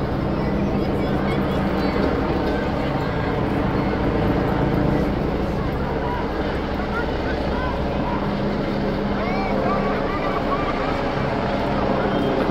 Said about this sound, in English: there are multiple helicopters